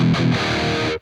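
A brief, loud distorted electric guitar chord through the Archetype Gojira distortion pedal is played as two quick hits that sustain, then cut off sharply into silence.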